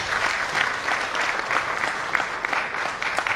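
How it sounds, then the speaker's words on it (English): A conference audience at an alumni association CEO gathering applauds in a steady, full burst of many hands clapping at even loudness, with no speech over it. "And a round of applause to all of them."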